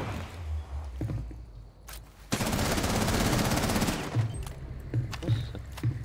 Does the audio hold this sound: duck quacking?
no